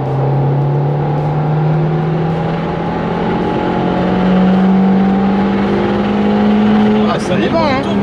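A 1990s WRC-style turbo rally car engine held at high revs while driving, a loud, sustained droning roar with a slowly rising pitch, a brief burst of harsher revving near the end, with talk over it.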